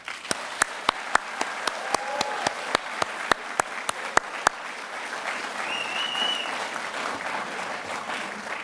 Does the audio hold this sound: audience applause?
yes